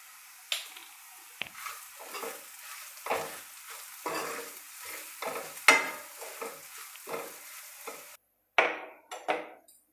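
Spices and turmeric fry in a pan for rasam, a spoon stirring them in repeated scraping, sizzling bursts at close range, with a short quiet gap near the end before two more stirs.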